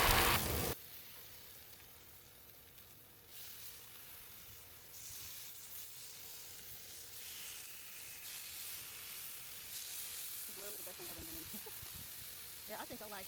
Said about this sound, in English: I usually let the meat cook about 5 minutes or so on one side.